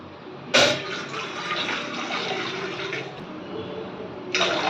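Two glasses of water pour into a pan for a jaggery rice-flour dish: a continuous gushing splash lasting several seconds, with sharper bursts at the start and near the end.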